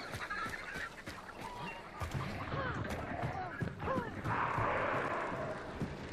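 Chickens cluck and squawk in Hunt: Showdown, a cluster of agitated fowl calls over ambient game noise, with a person talking intermittently alongside.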